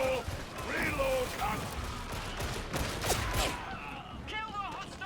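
Scattered gunfire in Warhammer 40,000: Darktide: sharp shots and short volleys, fairly quiet, mixed with in-game voice callouts and other combat noise.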